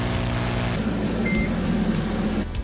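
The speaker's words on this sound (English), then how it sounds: "That beep seriously sounds like a microwave" A computer gives a short, high electronic beep during startup, a brief tone that sounds like a microwave, heard over a steady low hum of fans.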